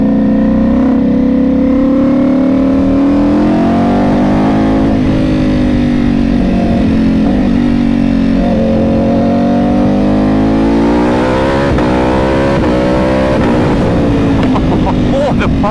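A Ducati Panigale V4 motorcycle engine revs hard up close, its loud, buzzing tone climbing and falling in sweeping pitch arcs, with sharp crackles and pops near the end as the throttle is worked.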